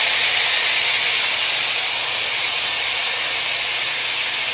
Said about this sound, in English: what I'm going to do first is go ahead and saute out these onions